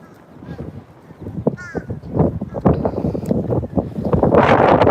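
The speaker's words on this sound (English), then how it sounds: "there goes the wind again" Wind gusts across an open waterfront in Southwest DC, roaring up into a loud, steady rush of buffeting toward the end, with crows cawing intermittently before it.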